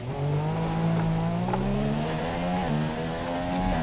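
A Formula 1 car in the F1 2017 racing game during practice at Austria revs its engine with a loud, steady high whine that climbs in pitch, briefly dips at a gear change and rises again, alone without talk.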